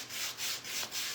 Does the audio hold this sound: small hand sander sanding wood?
yes